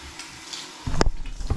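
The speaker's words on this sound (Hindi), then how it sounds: "तो ये मैं इसमें पानी भर रही हूँ।" Water runs from a tap into a loose plastic bottle, starting as a sudden splash and then settling into a steady close rushing hiss.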